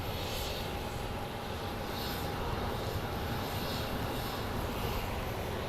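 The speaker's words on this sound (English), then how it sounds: "here comes an Ameriflight operated by Everett's Air. It's a Brasilia." An Ameriflight Embraer Brasilia turboprop airliner at Phoenix Sky Harbor airport gives a steady, dense engine roar that holds loud and even throughout, with no voices.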